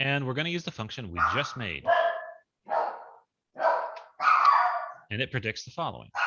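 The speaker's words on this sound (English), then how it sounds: "I'm really sorry for the dogs" Dogs bark intermittently in the background, short yips and barks partly masked by someone talking steadily over them.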